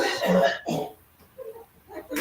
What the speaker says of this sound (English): Somebody's coughing on somebody.